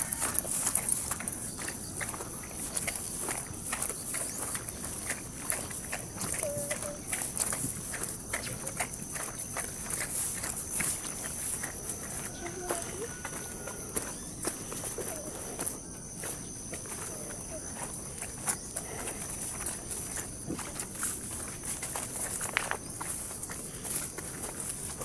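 A carabao walks along a rural path near a creek, its hooves giving a soft, steady, irregular clop against a constant background of chirping insects, with no talking.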